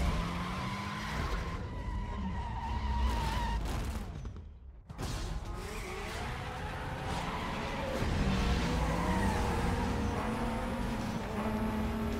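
Race car engine roaring at full throttle in Need For Speed Most Wanted (2005) on a circuit track, loud and continuous with rising gear-shift sweeps and tire skids, briefly cutting out midway before surging again.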